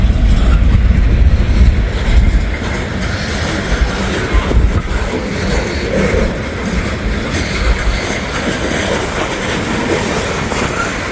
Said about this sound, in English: Not the most impressive train, but a train is a train is a train.